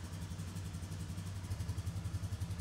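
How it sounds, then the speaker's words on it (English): A 2021-or-later Polaris Sportsman 450 ATV engine idles with a low, steady, rhythmic chugging pulse at fairly low volume, with no talking. "start the engine and allow it to idle for 1 to 2 minutes"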